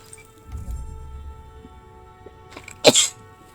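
A single sharp sneeze bursts out near the end, close and fairly loud, after a stretch of quiet rustling.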